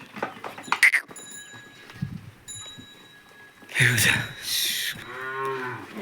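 Cows at a water trough give low mooing calls, with a longer moo near the end, mixed with people talking nearby and a few clear ringing bell-like tones.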